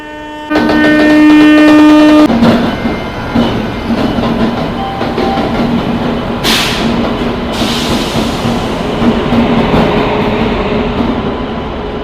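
Vijayawada–Lingampalli Intercity SF Express train rumbling steadily nearby, opening with a sustained horn blast, then continuous rail clatter with a brief hiss of air partway through; no voices.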